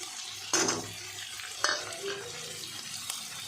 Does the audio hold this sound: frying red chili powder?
yes